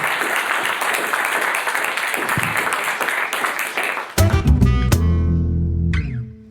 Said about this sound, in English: a big round of applause and a thank you to Owen